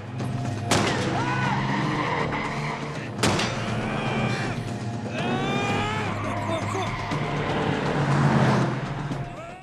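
A film car chase on a muddy road, with repeated high tire squeals and skids over roaring engines. Sharp impacts break in at intervals, and the busy, loud action stays fairly constant throughout.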